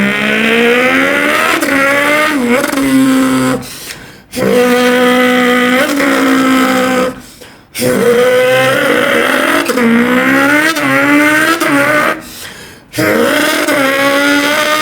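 A beatboxer imitates a Lamborghini V12 engine with his mouth in three loud, close bursts of rising, revving engine whine with gear-shift dips, each cut by a brief breath pause.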